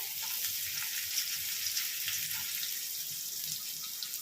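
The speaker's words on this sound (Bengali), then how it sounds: "তেলের মধ্যে জিরে ফোড়ন দিলাম" Cumin seeds sizzle in hot oil in a pan: a soft, steady hiss that stays even and fairly faint throughout, with no talking.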